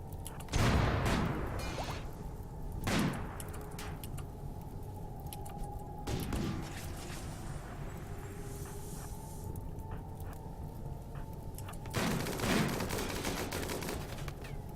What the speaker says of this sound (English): It looks like all my snipers are shooting, so that's good.